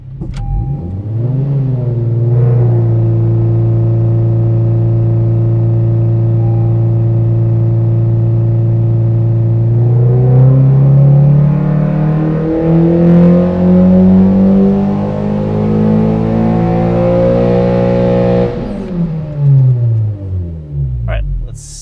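A naturally aspirated 9th-generation Honda Civic Si engine on a dyno, held steady and then revving loud and rising through a full pull before dropping off sharply, with no talk over it.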